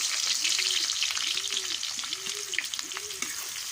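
Chopped onions frying in oil for chicken biryani, a steady loud sizzle with a repeated stirring scrape about every second, no talking.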